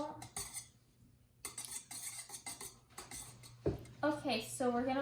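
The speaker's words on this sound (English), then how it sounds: "So now we're gonna whisk it together a little." Quick metallic clinks and scrapes of a whisk beating six eggs in a bowl, close and brisk, alongside a voice speaking near the end.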